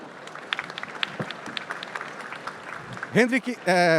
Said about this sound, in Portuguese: Eu queria uma salva de palmas para cada um deles